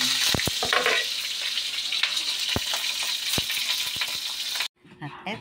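Eggplant and smoked fish frying in a home kitchen for a Filipino dinner, a steady loud sizzle with a few sharp utensil clicks, cutting off abruptly near the end to quieter background noise.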